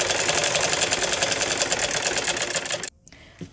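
A sewing machine stitches a salwar seam in a fast, rapid rattle for about three seconds, then cuts off abruptly into near quiet with only faint handling noise.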